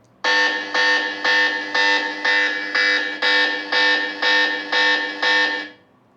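A DOOGEE V Max phone's alarm bell app sounds a loud, harsh electronic ringing in ten evenly spaced bursts, close and alone, before cutting off.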